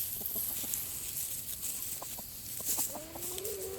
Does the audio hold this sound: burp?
no